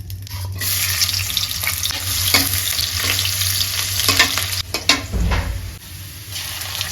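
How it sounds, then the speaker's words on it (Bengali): Hot oil sizzles and crackles steadily in a wok, with occasional scraping and clattering from stirring close by. "কড়াই গরম হয়ে গেছে, তেল দিয়ে দিলাম।"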